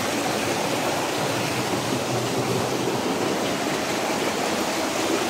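Water rushes down a rocky stream in a continuous, dense, hissing roar, close and steady with no pauses and no voices.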